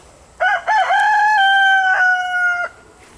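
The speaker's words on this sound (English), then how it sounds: "Got this loud ass Americana rooster." An Americana rooster crows loudly and close by, one long cock-a-doodle-doo with a stuttering start and a sustained, fading finish.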